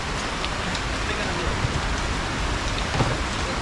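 Steady rain pours down in a dense, even hiss of drops striking surfaces, loud and unbroken throughout.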